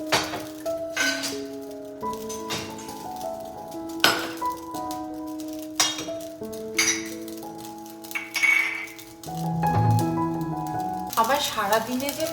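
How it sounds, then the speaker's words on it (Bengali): Dishes clink and knock against each other as a home dishwasher is emptied. The bright, irregular rattles and pings sound under a steady tonal background, with a voice also present. "আবার সারাদিনে যে কত বাসন পড়ে এই ডিশওয়াশার খালি করতে গিয়ে তখন বুঝতে পারি"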